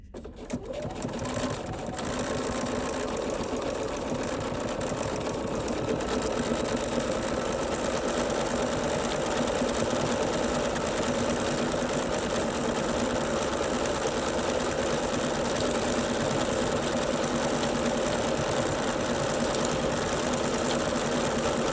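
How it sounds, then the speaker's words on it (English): A sewing machine runs steadily while doing decorative stitching on stabilizer, a close, continuous rapid mechanical whir and clatter after a brief start, with no talk. "So I'm just gonna do a little bit of decorative stitching"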